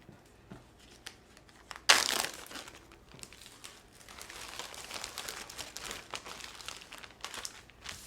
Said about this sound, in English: And get the air out of that and seal it and roll it.